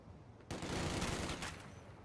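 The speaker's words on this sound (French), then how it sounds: "L'infanterie ennemie me tire dessus." Enemy infantry gunfire in Company of Heroes 2, a sudden onset of dense, overlapping rifle and machine-gun shots that continues steadily, moderately distant and fairly quiet.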